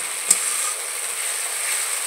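Spice paste ground on a grinding stone frying in oil, a soft steady sizzle with one sharp pop near the start, close but fairly quiet, no speech.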